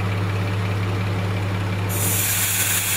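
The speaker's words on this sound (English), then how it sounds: "special tool, tire deflating tool" Air hisses steadily out of a 4x4 tyre through a tire deflating tool, starting partway in as a bright, loud rush over a low constant engine hum, close by.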